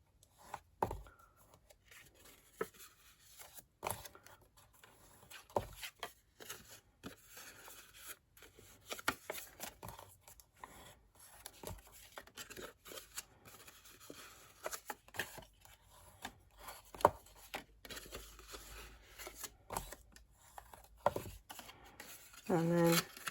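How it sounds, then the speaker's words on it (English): Paper being folded and burnished along score lines for a small Christmas treat box: sparse, quiet creases and rubbing strokes with intermittent sharp crackles, close up, with occasional talk. "I'm just going to fold and burnish"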